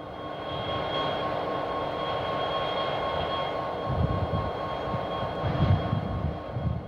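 Santa Fe EMD GP35 diesel locomotives at Cajon Pass give a steady, rumbling engine drone with a faint tonal hum, growing slightly louder with heavier rumbling toward the end.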